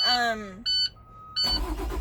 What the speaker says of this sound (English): turn on the engine so the tank fills up properly all the way to 120 psi